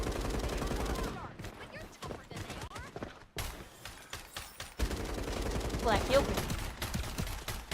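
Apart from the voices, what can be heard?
gunfire in Rainbow Six Siege X video game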